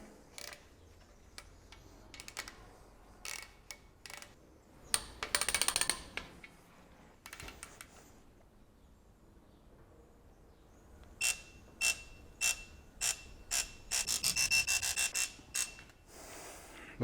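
Torque wrench tightening bolts on a bare V8 engine block for a supercharged Alpina B7, heard as a series of sharp metallic clicks in bursts, with quieter ratcheting between groups and no talk.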